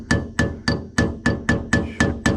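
Eight evenly spaced, ringing metallic strikes of a hammer on a shear bolt in a brush hog gearbox, close and sharp with a short ring after each blow.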